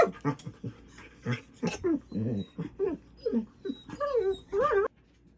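A puppy whimpers and whines in high, wavering cries, repeated close by through the clip, with a person talking alongside.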